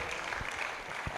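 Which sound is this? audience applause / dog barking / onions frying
audience applause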